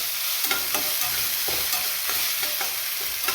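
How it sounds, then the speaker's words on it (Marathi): Thickly cut tomatoes fry loudly over high heat in a pan with a dense, continuous sizzle. Quick, rhythmic spatula scrapes stir them throughout, close up, with no talking. "यांना ना थोडंसं सॉफ्ट होईपर्यंत फ्राय करायचं बरं का, जवळपास मिनिटभर"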